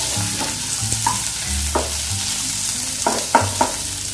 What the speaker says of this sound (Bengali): আদা নহৰু দিলোঁ তাৰপিছত অলপ ফ্ৰাই কৰিলোঁ